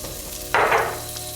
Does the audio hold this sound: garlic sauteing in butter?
yes